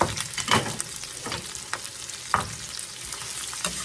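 Sliced half-moon onions hit hot oil with a steady close sizzle, broken by several sharp spattering crackles and bursts, and no voices.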